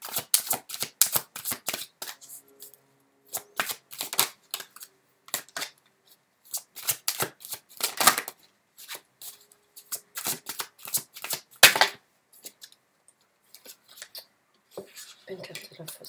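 Tarot cards are shuffled by hand in a steady run of quick crisp riffling snaps and rustles, close and fairly loud, with short pauses and a faint voice now and then.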